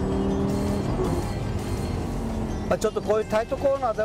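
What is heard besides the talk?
Lamborghini Gallardo LP560-4 engine while driving on circuit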